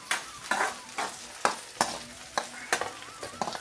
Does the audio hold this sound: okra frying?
yes